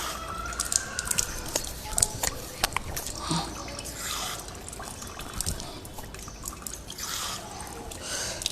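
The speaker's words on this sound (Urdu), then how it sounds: "پھر یہ پانی لیا. 3 دفعہ ہمارا ہاتھ دھل گیا." Water drips, trickles and spatters close by as hands are washed during Islamic ablution (wudu), a steady wet splashing with faint background sounds.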